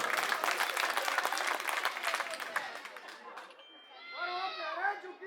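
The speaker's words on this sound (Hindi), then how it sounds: "इनके लिए ताली बजाओ एक बार जोरदार।" A rally crowd gives a candidate a burst of loud, dense clapping mixed with cheers and chatter. It fades after a few seconds, and then a voice speaks over the dying applause.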